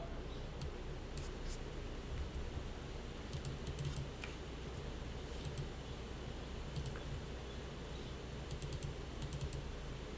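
A computer keyboard clatters with scattered key presses in small bursts, close and fairly faint over a steady background hiss, with no talking.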